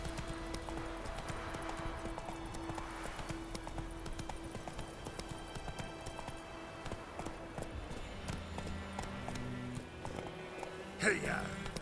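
Roach, a horse in The Witcher 3 video game, with rhythmic hoofbeats pounding at a gallop under game music and ambience, a brief voice near the end.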